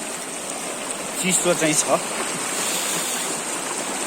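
A small, cold village river stream flows steadily as a continuous near rush of water, with a person speaking briefly over it partway through.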